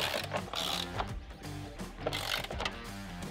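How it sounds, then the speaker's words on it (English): Screws being driven back into a plastic Ford Bronco airbox lid, a quiet close-up run of ratcheting clicks and short mechanical whirs in quick bursts. "set the lid down onto the OE airbox, and reinstall the 4 screws"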